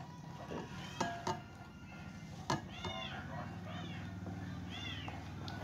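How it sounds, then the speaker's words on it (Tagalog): Motherless kittens meow in short, thin, high cries, a few separate calls spaced apart, fairly faint, with soft household noises around them. "Ingay po ng mga pusa, mga kuting."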